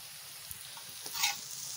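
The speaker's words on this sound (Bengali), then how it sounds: "লঙ্কার পেস্টটা এবার ভেজে নেবো" Chili paste frying for chowmein, a soft, faint sizzle with a few light stirring scrapes and one brief louder swell of hiss, heard close and alone without voices.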